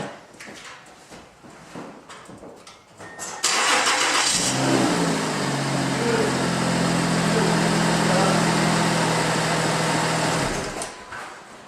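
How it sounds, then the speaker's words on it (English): A Mazda CX-9 engine cranks and starts after a spark plug change, a loud starter whir giving way to a steady idle that runs for several seconds before cutting off, with faint handling noises beforehand. "the last step is to just turn the car on"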